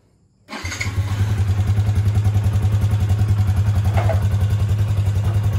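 Yamaha Y15 motorcycle fitted with a Hypertech exhaust starts after a brief quiet moment, then settles into a loud, steady, throbbing idle close by.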